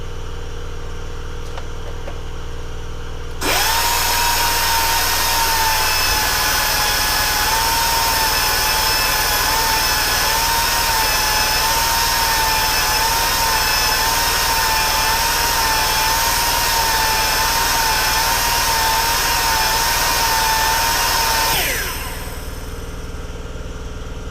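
A small power grinder runs steadily for about eighteen seconds, shaping a carburetor metering rod into a taper. The whine is loud and sustained and carries a slight wavering pitch, then it cuts off and quiet workshop background remains.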